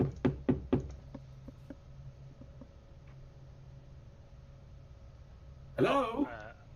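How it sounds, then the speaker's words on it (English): Several sharp knocks on a door from a tabletop role-playing session, a quick cluster of four or five raps at the start followed by quieter taps, then a burst of voice near the end. "And you guys hear a knock at the door."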